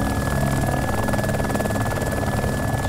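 Helicopter in the video game DayZ accelerating, a loud, steady rotor thrum with a whining engine tone and fast pulsing blade chop, heard up close from the cockpit with no voices.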